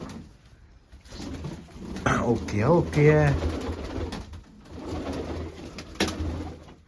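Pigeons coo in low, throaty rolls close by while a person speaks a few words about giving medicine to the pigeons, over a quiet background.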